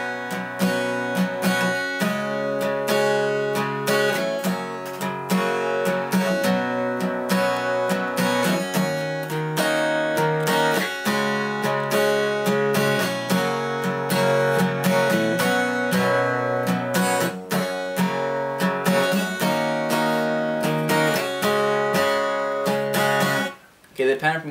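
Acoustic-style guitar strumming the bridge of a song in a steady, full, continuous pattern, close and loud, ending with a brief pause near the close.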